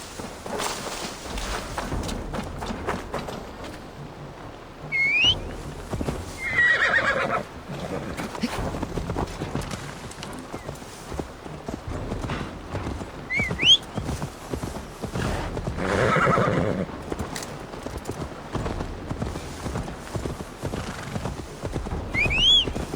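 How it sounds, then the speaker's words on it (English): A horse's hooves clip-clop at a steady walking pace in Assassin's Creed Valhalla, with three or four short whinnies breaking in over a continuous outdoor background. "Now to deliver Magni his horse."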